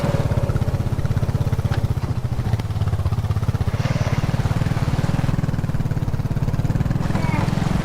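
Motorcycle engine in a dirt-bike jumping video game, a close, steady buzzing putter with rapid pulsing rhythm and faint clatter, continuous for several seconds.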